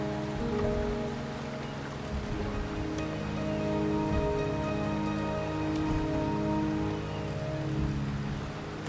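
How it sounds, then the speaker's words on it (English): Steady rain pattering across surfaces in the video game Wuthering Waves, a dense continuous hiss with soft droplet detail beneath a low sustained musical drone, even and moderately loud throughout with no talking. "The rain is subsiding, and the sky will soon clear."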